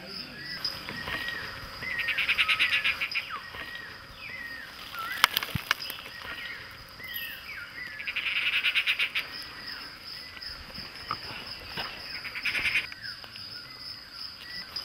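A Madagascar forest chorus after a night of rain, chirping insects and calling frogs pulsing in waves, with scattered bird calls and a steady high insect drone underneath.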